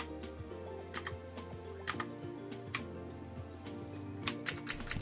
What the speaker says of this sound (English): You can adjust the brightness by clicking the function button and the up and down button.